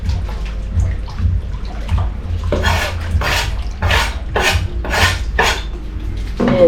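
A spoon stirs butter through a pot of curried goat, scraping and sloshing in a steady series of strokes close up, with a soft wet background hiss.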